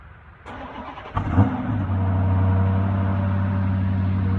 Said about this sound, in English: Here's the cold start.